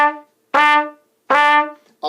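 A trumpet plays separate quarter notes, each a bright, steady tone with a short gap between, close and loud, with no talking.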